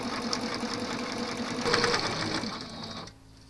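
A sewing machine stitches fabric for a craft project, its steady fast whirring rattle running loud and close for about three seconds before cutting off abruptly.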